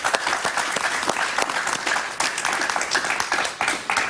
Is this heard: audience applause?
yes